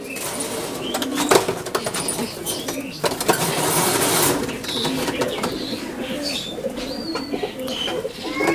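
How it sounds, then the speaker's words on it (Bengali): A released pair of Nildumma pigeons coo in low, repeated throaty calls amid rustling and occasional wing flaps, with scattered chirps and background noise under a voice. "এটা নীলদুম্বা পেয়ার, একটু ছেড়ে দেখাই"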